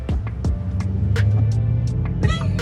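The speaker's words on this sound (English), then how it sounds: "It's a very cheesy car engine sound." Ford Mach-E electric SUV's artificial propulsion sound, a synthetic humming engine tone that holds steady, with clicks and brief noises over it and a voice speaking briefly.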